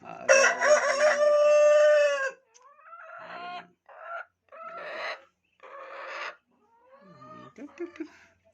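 A rooster, among a small flock of black Australorp chickens, crows loudly and long at the start, followed by several shorter clucks and calls from the hens in separate bursts, with a softer mix of clucking near the end.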